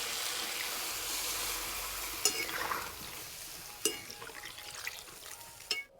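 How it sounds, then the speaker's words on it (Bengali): Water goes into a pan of potatoes and spice masala frying in oil, and a hissing sizzle fades as a spoon stirs, with a few sharp clinks against the pan. "এবার সিদ্ধ হওয়ার জন্য জল দিয়ে দেবো"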